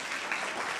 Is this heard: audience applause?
yes